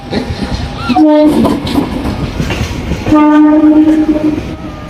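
A train passes close by, sounding two loud horn blasts separated by a pause, over continuous rumbling and clattering wheels on the track.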